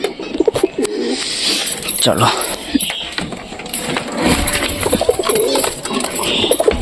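Pigeons coo repeatedly at close range in a loft, the soft throaty calls overlapping with other birds' chirps, rustling and a brief spoken word.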